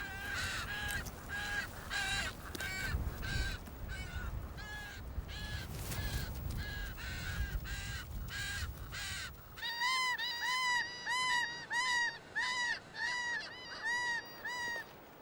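Striated caracaras, known as Johnny rooks, call repeatedly near a feast of offal on a coastal island, first as loud harsh overlapping cries over rumbling wind, then as a clearer run of evenly spaced squawks close by.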